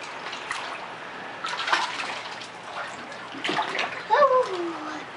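Water in a bathtub sloshing and splashing as a child moves back and forth underwater, soft intermittent swishes rising in a few louder bursts, with a voice and an adult's speech heard over it.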